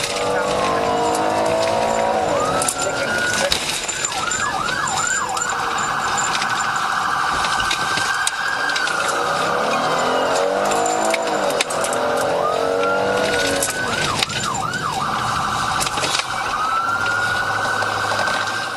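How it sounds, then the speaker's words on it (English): A police car chases a suspect's vehicle at high speed, wailing and yelping sirens cycling over roaring engines, with occasional tire squeals and a voice talking over it. "the suspect suddenly jumped in, started it up, and kicked off a high-speed chase."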